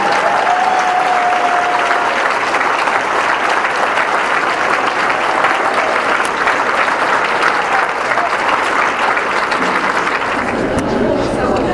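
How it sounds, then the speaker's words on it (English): Sustained applause from an audience at a high school senior awards ceremony, a steady dense wash of clapping at full volume throughout that thins slightly near the end. "Give them all a big round of applause."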